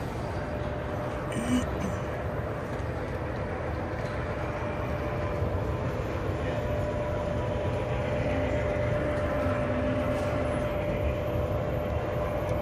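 A train with an observation car rumbles steadily past nearby, a continuous low roar with faint rattling, and a brief high squeal partway through.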